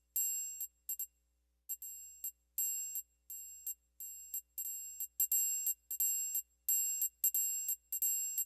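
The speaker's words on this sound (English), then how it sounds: "It's like the triangle." Triangle voice from a Boss DR-880 drum machine, a bright metallic ringing tone struck in a quick repeating pattern of short hits with brief gaps, clean and alone with no talking.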